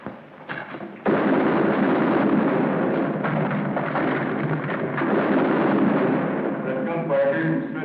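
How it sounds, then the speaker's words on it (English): In a 1951 film, a faint thud, then a sudden loud burst of gunfire that turns into sustained booming battle noise, dense and continuous to the end. "That gunfire came from straight ahead."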